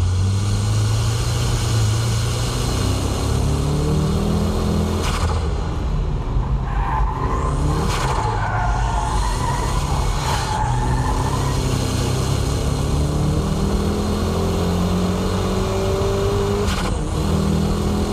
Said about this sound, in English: I'll demonstrate the braking drift with this K-Office S14